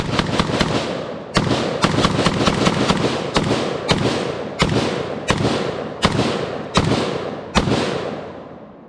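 A CZ Bren 2S carbine fires at an outdoor range: loud, sharp reports, first as a rapid cluster of shots, then as single shots spaced about a second apart, each with a short decaying echo.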